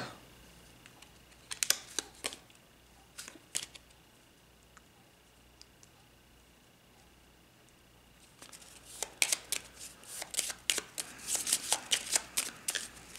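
Playing cards from the board game Pathogenesis being picked up and handled on a table, scattered soft card flicks and slides early on, then a denser, busier patch of shuffling and snapping cards near the end, fairly quiet.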